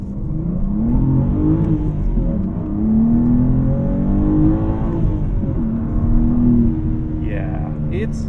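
A 2021 BMW M4 with a six-cylinder engine and manual gearbox pulls hard uphill, its engine note climbing in repeated rising sweeps between shifts, loud and close from inside the cabin, with a voice coming in near the end.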